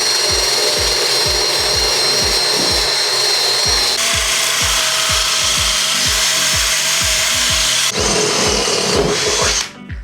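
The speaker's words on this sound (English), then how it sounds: "the trusty air sander" An air sander works across the rusty floor of a camper van, a steady high whine over rhythmic scraping strokes that shift slightly in pitch before cutting off at the end.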